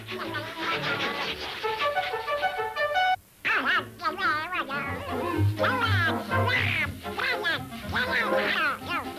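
Cartoon hounds bark and yip during a fox hunt, mixed with quacking duck-like voices that chatter rapidly over loud, busy background sound.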